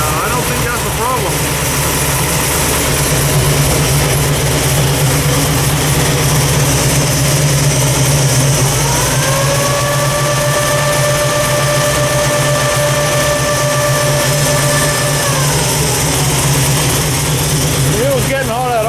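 Radiator cooling fans on an overheating Dodge running at idle, a loud constant whirring drone beside the idling engine, with a steady rising-then-falling tone in the middle and someone talking over it.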